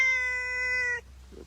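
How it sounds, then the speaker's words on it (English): A rescued caracal gives one long, strongly tonal meow lasting about a second, loud and close with no talk over it, then goes quiet apart from a faint low rustle. "You are give the best meows"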